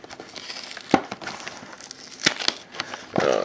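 A plastic bag of frozen mac and cheese shrimp bites crinkles as it is opened and unzipped, with a few sharp rustles and crackles among softer handling noise and a louder crinkling burst at the end.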